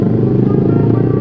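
Motorcycle engine droning steadily at close range, a continuous loud riding sound with no speech over it.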